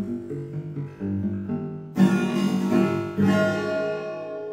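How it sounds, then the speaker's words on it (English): A voice and a guitar played through a simulated large room with highly reflective walls, the sound smeared by heavy reverberation and distinct echoes, swelling louder partway through. "we can actually hear the individual reflections, and the walls are quite reflective"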